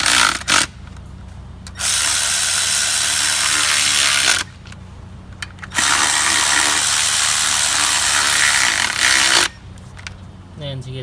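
Power tool tightening valve cover bolts on an Acura RDX engine, loud whirring bursts of a few seconds each with short pauses between, close up.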